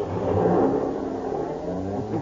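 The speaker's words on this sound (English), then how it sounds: "Get in the car quickly." A car engine revs and pulls away in an old-time radio drama sound effect, a mid-pitched rumble that steadies into a whir, with no voices.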